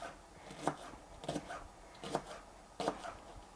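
A knife thinly slicing a green onion on a cutting board, four quiet, evenly spaced crisp cuts, close and faint against a hushed kitchen background.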